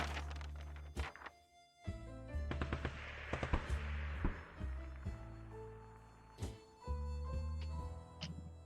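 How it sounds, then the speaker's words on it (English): Bursts of automatic gunfire rattle alongside heavy thuds and impacts in the video game 60 Seconds!, set against a low droning game soundtrack. "That automatic gunfire didn't sound too good."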